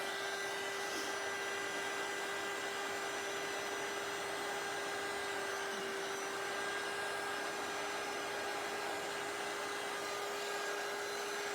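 A heat gun blows steadily, a constant whirring hum held at an even level for the whole stretch while heating embossing powder from underneath; no voices.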